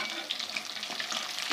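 Pieces of fish frying in hot oil over a raised flame: a dense, continuous sizzle and crackle, close and steady, with small pops scattered through it.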